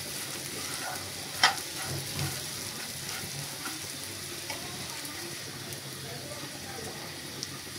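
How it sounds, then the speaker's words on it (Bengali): Fish stirred into crispy fried onions in a hot pan, with a steady low sizzle throughout and a few soft scraping knocks from the stirring. "এখন আমি একটু মাছগুলো দিয়ে একটু ভালো করে নাড়াচাড়া করে মিশিয়ে নেব"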